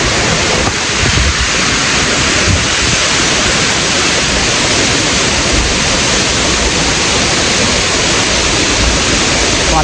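Dense, steady roar of water from a waterfall in the Sri Lankan forest at Demala Ella, loud and continuous with no pauses throughout.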